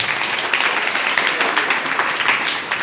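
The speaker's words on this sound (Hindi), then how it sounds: "एक बार प्राचार्य महोदय के लिए तालियां में।" A school audience applauds with a steady, dense patter of many hands clapping at once, sustained evenly throughout at moderate loudness with no talking over it.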